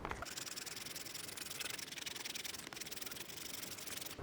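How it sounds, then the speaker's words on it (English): An 80 grit sandpaper on a sanding block scrubs a Tesla bumper in steady back-and-forth strokes, a close, continuous dry rasping hiss with no talking. "what I have is 80 grit sandpaper on it"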